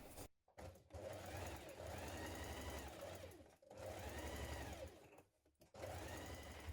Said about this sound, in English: you're going to stay stitch around the neck of the coat between the large circles